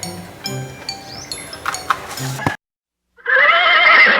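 A horse gives a loud, close whinny near the end, after a stretch of clattering, clinking noises and a brief silence.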